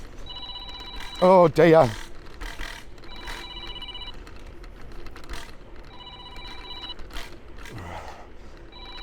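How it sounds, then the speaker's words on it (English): A mobile phone rings outdoors during an e-scooter ride, a repeating electronic ringtone with steady tonal bursts under traffic noise, interrupted early by a loud close voice exclaiming. "No, my phone's ringing now."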